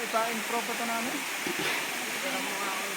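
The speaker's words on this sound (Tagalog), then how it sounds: "Tingnan niyo yung falls." Steady broadband rush of a waterfall at a remote, untouched falls, a continuous wash of falling water heard fairly close beneath people talking over it.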